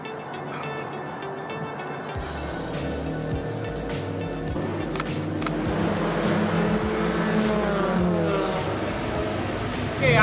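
Race cars at Sepang International Circuit during a nighttime endurance race, engines droning and rising steadily under a constant wash of trackside noise, with no clear single pass-by.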